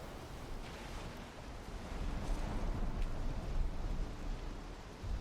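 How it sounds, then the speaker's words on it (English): Big ocean waves rock a sailing boat in the Valheim video game, a broad, steady rush and roll of water and wind that swells slightly louder partway through, with no talk over it. "Such big waves that they are turning my boat around for me."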